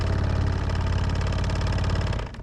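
A nearby boat outboard motor on a lake runs loudly with a steady, throbbing engine drone that cuts off abruptly at the end.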